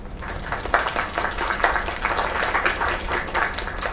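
Steady applause from a crowd in a video game, many hands clapping in a dense, continuous wash for several seconds with no voices on top.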